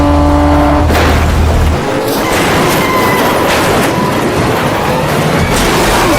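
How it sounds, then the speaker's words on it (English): Caterham race car crashing at high speed during a Caterham Championship race near Bath, England, a loud roaring engine giving way to a heavy thudding impact and sustained crunching, rattling noise, close and intense throughout. "A huge accident! That's an enormous impact!"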